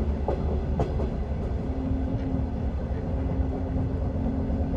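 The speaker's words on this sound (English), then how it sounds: "He could feel the train slowing beneath their feet." A freight train slowing down as an audio drama effect, a steady loud rumble of rolling rail cars with a low sustained hum and occasional faint clanks, continuous throughout.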